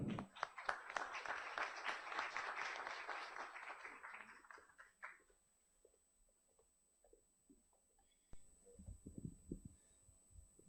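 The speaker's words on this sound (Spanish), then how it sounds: "Fuerte aplauso, por favor." Audience applause at a legal conference event, a dense burst of clapping for about five seconds that fades out, followed by quieter room sounds and a brief voice.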